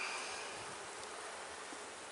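Agitated honey bees swarm over an opened hive during a quick inspection, producing a dense, steady, close buzzing hum that holds level throughout with no talk.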